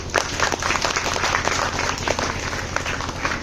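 Audience applause for the chief guest at a nursing institute event, a dense, steady wash of many hands clapping at close range for several seconds, with no talk over it.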